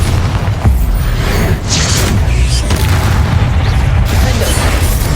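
The Bombarda explosion spell in Hogwarts Legacy bursts with loud, booming blasts amid dense battle noise, several heavy impacts landing over a few seconds against a constant rumbling combat background.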